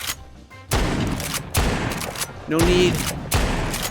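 Hershel's shotgun in The Walking Dead: Saints & Sinners booms through a run of close, loud blasts, four heavy shots spaced about a second apart, with a brief voice underneath.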